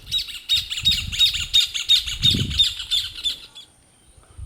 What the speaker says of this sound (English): we see in this scene two other species of wading birds, including the sun-bittern and the Waddled jacana.